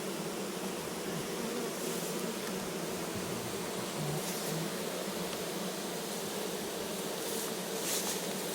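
Honeybees hum steadily around an open hive beside a flowering buckwheat field, a soft continuous outdoor drone with faint rises in the buzzing and no talk.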